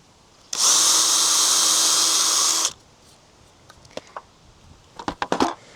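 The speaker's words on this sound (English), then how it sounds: "drill the pilot holes." A power drill bores pilot holes into treated lumber for a bird feeder mount, one loud sustained whine of about two seconds, followed by scattered clicks and knocks of handling.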